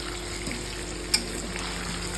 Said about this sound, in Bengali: আলুগুলো সব ভাজতে বসিয়ে দিয়েছি